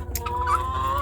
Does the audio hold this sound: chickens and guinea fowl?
yes